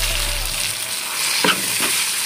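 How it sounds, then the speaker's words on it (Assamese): Pieces of roasted tomato fry in a pan with chopped onions, giving a steady close sizzle with a couple of short scraping stirs partway through. "এইডোখৰ ধুনীয়াকৈ ভাজি ল'ম,"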